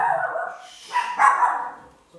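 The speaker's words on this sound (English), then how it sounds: "Sorry, the dog." A dog barks close by indoors at someone at the front door, giving a couple of loud, sharp barks with a whiny edge and no talk over them.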